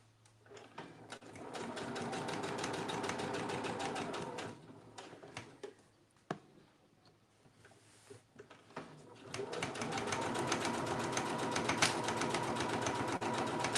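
A sewing machine quilts a small front pocket in rapid bursts of stitching, stopping for a few seconds in the middle before running again, close and fairly loud with faint background sounds.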